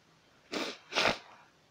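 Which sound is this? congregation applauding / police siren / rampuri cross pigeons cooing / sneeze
sneeze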